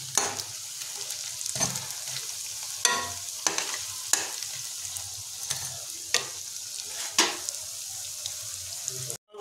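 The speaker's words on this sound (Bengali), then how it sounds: "ঠিক অপর দিকটাকেও আমরা এইভাবে মিনিট 5 ধরে লো থেকে মিডিয়াম ফ্লেমের মধ্যে ভাজা করে নেব।" Sajne flower fritters frying in hot oil over a low to medium flame, a steady close sizzle broken by occasional soft scrapes and clicks of a spatula turning them.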